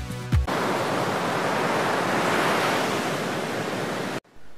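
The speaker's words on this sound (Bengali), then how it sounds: "সমুদ্রের হিমশীতল বাতাস এবং গর্জন আপনার মন এবং প্রাণকে করে তুলবে প্রাণবন্ত" Sea surf and wind at Patenga beach in Chattogram, a steady broadband roar of breaking waves and gusts that fills the clip from start to end, loud and continuous before cutting off abruptly.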